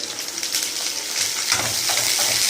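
Chopped onion and curry leaves drop into hot oil for a thattapayir puli kulambu, making a close, crackling sizzle that swells louder partway through.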